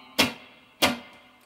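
Two sharp, dry muted-string clicks on a guitar, evenly spaced about half a second apart, close and crisp with quick decay and no voices.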